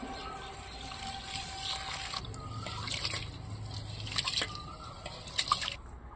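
Broken rice and chana dal are washed by hand in water, giving soft sloshing, dripping and squishy trickling sounds at close range with no talk.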